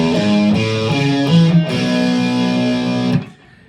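A distorted electric guitar plays a chugging rock riff of short repeated power-chord stabs, then holds a sustained chord that cuts off near the end, loud and close with no voice.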